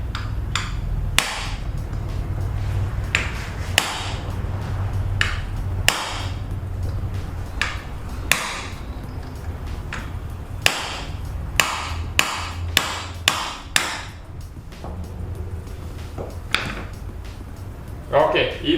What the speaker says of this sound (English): Now we are going to use a punch or a hammer.